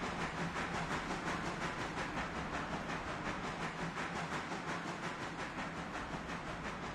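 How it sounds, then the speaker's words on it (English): A Mikado steam locomotive hauling about 2,400 tons of coal rolls past, its cars giving a steady rhythmic clatter and hiss that stays loud and close throughout, with no talk. "Watch the train roll by for just a second."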